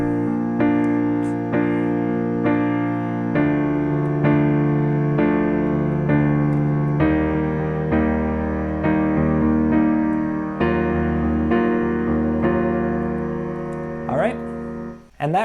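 Sustained piano chords change at a slow, even pace, each held for two measures, ending with a brief rustle and a click.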